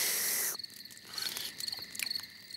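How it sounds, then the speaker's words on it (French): Crickets chirp in a cartoon nature scene, a steady high-pitched trill repeating in short pulses after a brief louder opening sound, with no voices over it. "Ce que tu entends, ce sont les criquets qui chantent."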